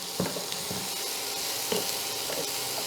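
Chopped onions fry in butter in a pan, a bright, close and continuous sizzle with a few brief scrapes and knocks of stirring.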